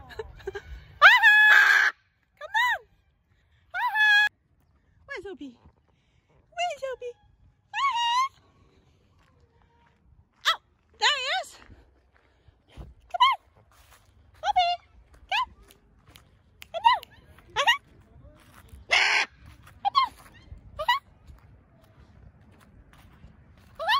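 Large parrot calling outdoors on a cold night, a series of loud, harsh squawks and screeches repeated in irregular bursts, with a person talking quietly in between and faint rustling underneath.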